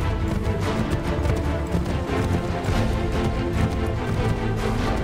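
A horse gallops in the video game Assassin's Creed III, a dense, continuous drum of hooves under a thick wash of in-game noise.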